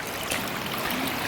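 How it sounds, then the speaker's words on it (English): A tiny mini waterfall trickles outdoors, giving a soft, even rush and patter of falling water that holds steady throughout. "What are you going to name this little mini waterfall you found?"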